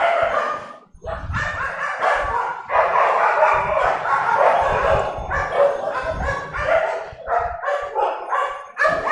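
Several dogs bark and yip repeatedly in loud, overlapping bursts, close by, with some whimpering, heard during an online class.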